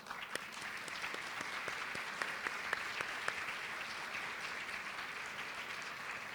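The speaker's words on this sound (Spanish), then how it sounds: "Un aplauso por eso." Faint, distant applause from a seminar audience, a steady patter of many hands clapping with a few sharper claps standing out, no talking over it.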